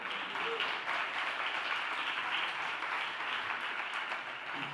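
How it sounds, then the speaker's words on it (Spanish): Steady crowd applause fills the whole stretch without letup, a dense wash of many hands clapping at once in an evening when the new Lehendakari of the Basque Country is announced. "Un aplauso."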